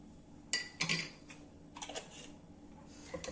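A spoon clinks and scrapes against a glass while stirring a hot ginger and honey drink. The taps are light and irregular, with a few louder strikes close by.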